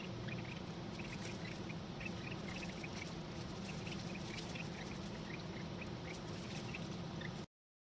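Young ducklings being raised indoors peep and quack constantly in many small, soft calls over a steady background hiss, close but quiet, ending abruptly.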